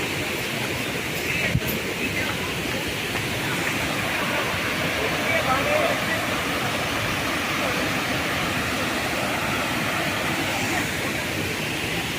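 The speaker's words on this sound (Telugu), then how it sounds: "Kolluru water falls" Polluru waterfall near Motugudem on the Andhra–Odisha border gives a steady, dense roar of falling water that fills the whole stretch without a break.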